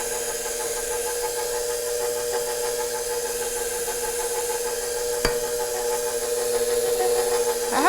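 A KitchenAid Professional 5 Plus stand mixer runs steadily on its lowest stir speed, a continuous motor whine with a faint rhythmic knock, mixing dough of flour and salt, with one sharp click partway through.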